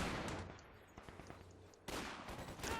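Gunfire in the World War II strategy game Company of Heroes 2, a 1v1 match between US Forces and OKW: a steady wash of distant rapid shots and bursts with a few sharper cracks, swelling louder near the end, with no voices.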